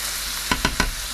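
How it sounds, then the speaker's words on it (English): Chicken sizzles in melted butter in a hot pan over a steady frying hiss, with three short stirring or scraping bursts near the end. "Okay, to just let that sizzle away."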